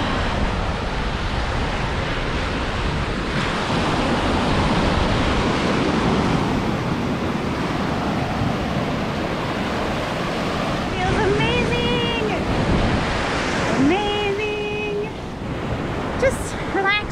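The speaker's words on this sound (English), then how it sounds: "Look at the roar of the ocean." Ocean surf roaring steadily on a warm beach at sunset, loud and continuous with wind buffeting the microphone, while people talk over it in the later part.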